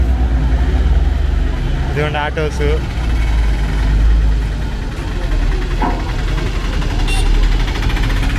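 Autos, bikes, cars and a van roll off a ferry at Kochi, their engines idling and rumbling low and steady close by, while someone talks briefly over the motor noise.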